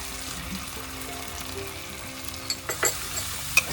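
Food marinated with turmeric, cumin, coriander, Kashmiri chilli powder and salt sautés in a pan with a steady close sizzle, then a few stirring scrapes near the end, with no talk.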